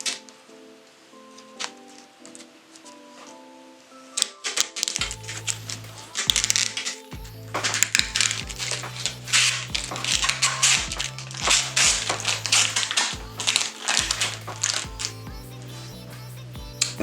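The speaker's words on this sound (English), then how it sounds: "Now I'm going to start on this outside and peel that back." 3M Finish Line vinyl tape stripes being peeled off the tank of a Yamaha Warrior 1700 motorcycle give close crackling, ripping rustles in irregular bursts over a low steady hum, with no talk.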